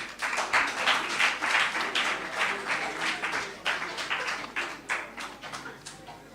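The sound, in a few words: audience round of applause at club meeting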